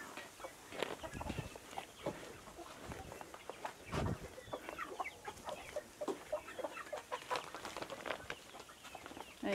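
Chickens clucking around a yard at feeding time, a steady scatter of short clucks and chirpy calls from several birds, fairly close, with no talk over them.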